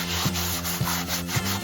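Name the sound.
scrubbing truck parts with a Scotch-Brite pad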